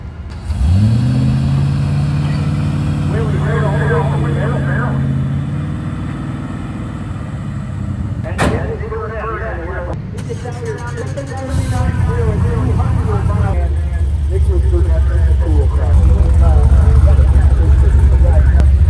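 A car with a repaired rear end and a plugged rear brake line idles and revs while backing up in reverse, a loud continuous engine drone that rises in places, with people talking over it.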